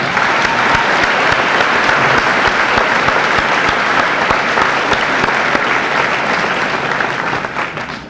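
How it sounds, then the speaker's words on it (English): A large crowd at a high school senior assembly applauds loudly and steadily, the clapping dense and sustained before tapering off slightly at the end. "let's give them another recognition of applause."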